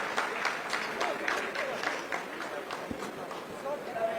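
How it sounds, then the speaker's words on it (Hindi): ISRO scientists applauding in the mission control room during the Chandrayaan-3 lunar landing, a dense rolling patter of many hands clapping at a moderate distance, mixed in with a speaking voice. "आप इस तालियों के गड़गड़ाहट को सुन सकते हैं"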